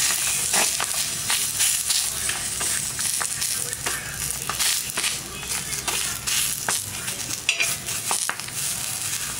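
Lamb spleen heats in a hot pan with a bright crackling sizzle, broken by repeated stirring clatter and occasional sharp pops, close up.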